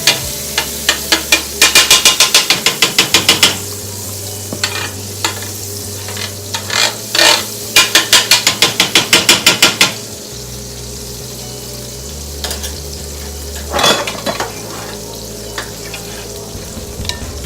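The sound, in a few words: butter sizzling on homemade hibachi griddle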